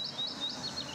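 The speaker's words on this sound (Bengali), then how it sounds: "পাখির ডাক" A bird gives a quick series of high, thin chirps, about five in a row, faint and fairly distant.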